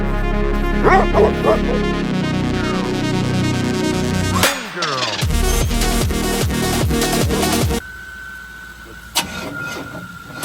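A dog close by gives excited barks, yips and whining cries, loud and repeated, with an engine rumbling underneath and a quieter stretch near the end.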